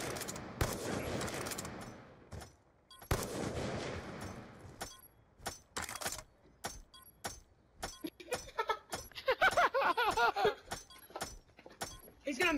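Gunfire from the video game Black Ops 2: a few dense bursts of shots early on, then sparse sharp cracks spread over the rest, with faint game sounds in between.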